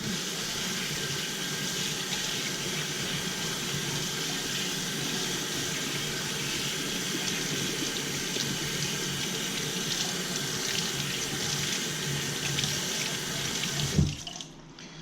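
Tap water runs steadily into a kitchen sink while freshly caught trout are rinsed clean, a continuous close splashing hiss that cuts off sharply near the end with a brief knock; no talking.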